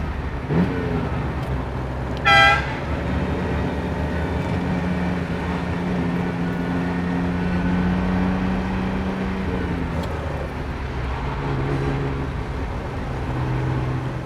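A 1973 Ferrari Dino 246 GTS on the move, its engine holding a steady droning note with a gentle rise in pitch partway through, loud and close, alongside a brief high tonal chirp early on and no talk.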